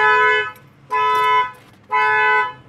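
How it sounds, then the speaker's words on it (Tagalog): A car alarm blares in three loud, evenly spaced honking tones, each lasting about half a second, close by. "matitrigger ang alarm nito"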